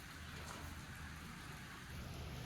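Rain falls outside at night in a soaked outdoor area, a faint, even hiss of drops that continues throughout, distant and quiet, with no speech.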